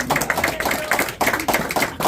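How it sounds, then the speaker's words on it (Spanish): A church congregation claps at an evangelical service, a fast, steady run of close hand claps lasting a couple of seconds. "Dale fuertes palmas al Señor, por favor"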